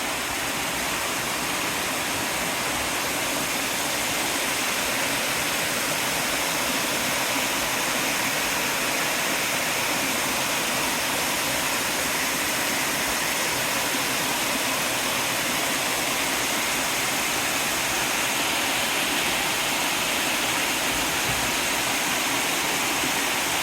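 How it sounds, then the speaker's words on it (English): River water flowing steadily near the top of Dawlish, a constant broad rushing wash heard close and alone with a light breath of wind, no voices. "I want to be able to get the water sound from the river"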